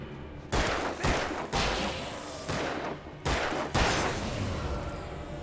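Gunfire in the video game Alan Wake: several loud, sharp shots fire at irregular intervals, each a broadband burst with a decaying tail, close and dominant over a steady ambient bed.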